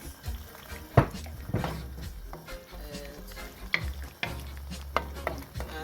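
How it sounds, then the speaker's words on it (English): Curry shrimp is stirred in a sizzling pan, with sharp scrapes and clacks from the utensil breaking through a soft, steady frying hiss, close and fairly quiet. "Okay, give it a nice mix."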